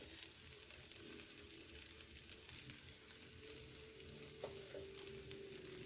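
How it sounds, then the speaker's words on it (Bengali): Spicy semolina (jhal suji) being stirred in a pan after water has been added, a faint steady sizzle with soft scraping stirs, quiet and continuous without voices. "এবার এই নাড়াচ্ছি তো, জল দেওয়া হয়ে গেছে, নাড়াতে হবে"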